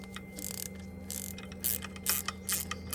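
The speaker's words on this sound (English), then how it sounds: "it can be easier to over tighten it when you're using a ratchet" Ratchet with a 5mm socket tightening a hose clamp on a BMW F11 520d estate, giving a steady run of quick mechanical clicks over a low background hum, close and moderately loud.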